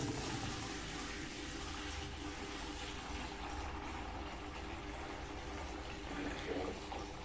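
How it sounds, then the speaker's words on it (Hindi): Water is poured steadily into a container while an herbal extract is prepared, a continuous broadband splashing rush that lasts the whole stretch at moderate level with no talking. "जी, अब इसमें पानी अब हम डाल लेते हैं"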